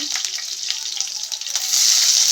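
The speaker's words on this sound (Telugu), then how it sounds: "నూనె వేడైపోయిందండి వేసుకుంటున్నాము ఆ కరివేపాకు" Curry leaves dropped into hot oil sizzle loudly, a steady crackling hiss close up that swells toward the end, with no voices.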